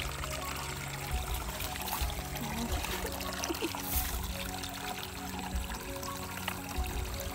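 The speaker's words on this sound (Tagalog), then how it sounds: "Meron ditong sa maliit na daanan ng tubig." Water pours and trickles steadily through a narrow channel beside a rice field, a continuous splashing flow close by with no voices.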